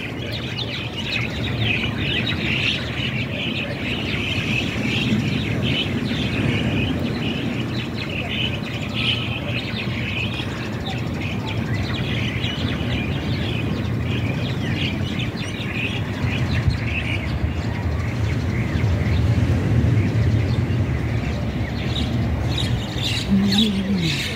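A dense chorus of many birds squawking and chirping continuously, loud and close, at the seaside in Hac Sa, with people talking underneath.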